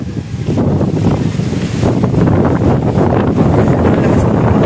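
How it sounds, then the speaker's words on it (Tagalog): Strong wind blows outdoors in a loud, continuous rushing roar that buffets the microphone with low rumbling gusts, with no talking. "Malakas ng hangin."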